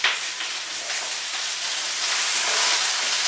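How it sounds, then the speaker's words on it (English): A steady, dense hiss of cabbage and onions frying in hot oil fills the clip, close and constant like rain, with no voices. "you can hear that starting to fry already and sizzle"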